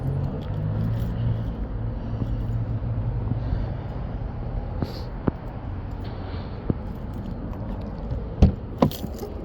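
Keys jangle faintly in short, scattered clinks over a steady low rumble inside a truck during a light bar installation, with a few sharper metallic taps near the end.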